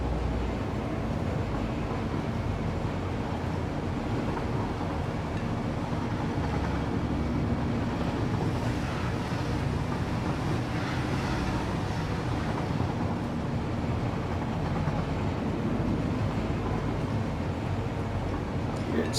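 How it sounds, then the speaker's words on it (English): A train in the game Satisfactory rumbles through a tunnel, a steady, dense roar that holds at the same level throughout while a person talks over it. "There's another train that takes this tunnel."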